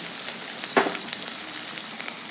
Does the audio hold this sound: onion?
yes